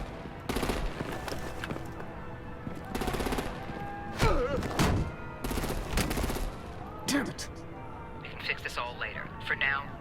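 Artillery fire in the game Batman: The Enemy Within comes as several sharp, rattling bursts spaced a second or two apart, with faint voices and radio-like chatter between them.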